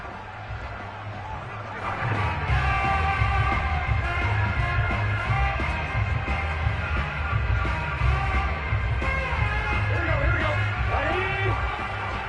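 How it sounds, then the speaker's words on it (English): Sold-out Cincinnati stadium crowd cheering for the Bengals as they take the field against the New York Jets in a football video game, a loud continuous roar of yells and whoops with a commentator talking over it. "The enthusiasm of this Cincinnati crowd in full effect a moment ago as their Bengals took the field to the delight of this sold-out crowd"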